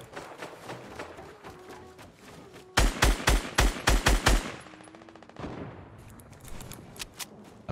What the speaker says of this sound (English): I'm still getting shot from real far.